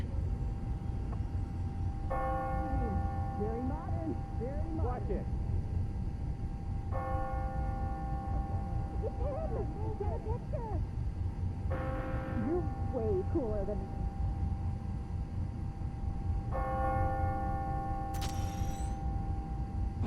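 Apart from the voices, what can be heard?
church bells ringing the hour, video game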